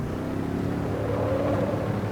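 Mercedes SLS engine in the Assetto Corsa racing game at the Nürburgring GP circuit, a steady low droning rumble held at moderate revs, loud and continuous with no talk.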